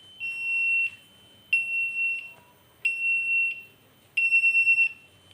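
A BNWAS alarm buzzer on a ship's bridge panel sounds in four loud, steady electronic tones, each lasting under a second with short gaps, the last one pulsing rapidly.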